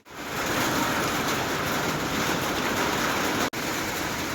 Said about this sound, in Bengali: এই দেখো আকাশ ভেঙে বৃষ্টি নেমেছে